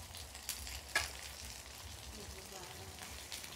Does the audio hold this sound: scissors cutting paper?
no